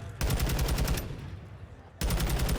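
Gunfire in a Call of Duty esports elimination match between Vegas Legion and Boston Breach: dense rapid automatic bursts ring out loudly, break into a quieter lull, then resume abruptly near the end.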